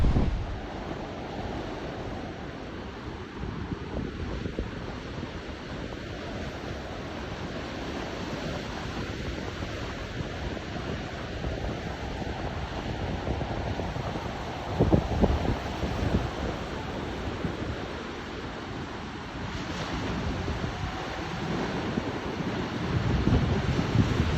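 Ocean swell and surf roll onto a beach in a steady, broad wash, with wind buffeting the microphone throughout and a few louder surges of breaking water.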